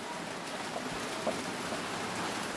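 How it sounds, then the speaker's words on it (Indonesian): Rain falls steadily on crops during the dry season, making a continuous, even hiss of drops up close, with no voices. "tersiram tanamannya dengan air hujan."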